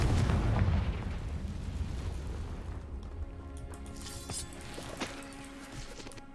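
A Confringo fire spell explodes in Hogwarts Legacy: a loud, deep boom hits at once, then rumbles and crackles away over several seconds.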